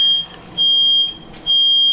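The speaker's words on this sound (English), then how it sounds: "That's my fire alarm." A household smoke detector, set off by humidity, sounds three loud high-pitched beeps in a steady repeating rhythm close by, with quiet gaps between.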